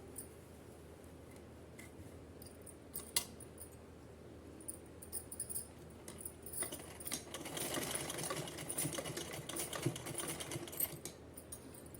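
A sewing machine stitches green and yellow fabric pieces for a small Kanha dress, quiet at first with a few clicks, then a fast rattling run of stitching through the second half, close and without talk.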